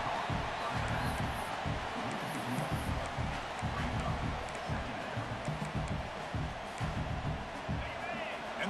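Football stadium crowd at the Indiana vs Oregon Fiesta Bowl playoff semifinal roaring steadily, a dense continuous wash of cheering and noise under a commentator's voice.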